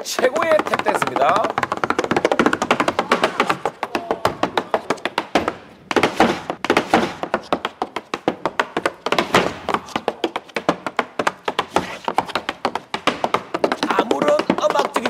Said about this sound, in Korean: 두 발로 음악을 만들어 탭댄스